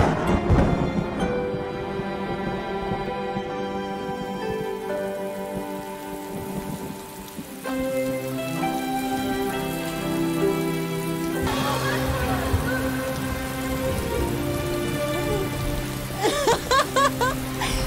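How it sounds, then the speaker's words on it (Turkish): Steady rain pours throughout, mixed with a sustained musical score that swells and shifts, with no talking. "Yağmur yağıyor."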